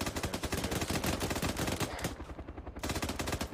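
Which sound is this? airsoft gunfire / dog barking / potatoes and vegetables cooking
airsoft gunfire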